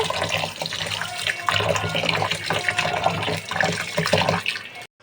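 Polao rice being washed by hand in water, with sloshing, swishing and trickling in repeated bursts, close and fairly loud, ending in a sudden stop; no speech.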